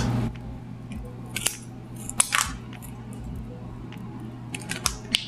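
Scissors snip around the edges of an oak bonsai's root ball, a series of sharp, close clicks and crunchy cuts at irregular intervals over a steady low hum.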